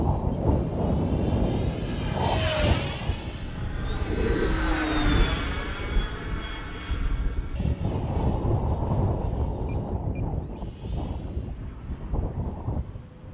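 A small aircraft engine drones loudly and steadily through a windy flight during touch-and-go practice, its pitch sweeping up and down as power changes, with rushing wind noise throughout.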